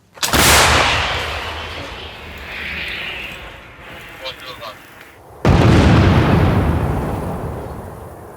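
Two heavy booming artillery gun blasts, one at the start and another midway, each with a long rumbling tail, with a voice speaking briefly in between.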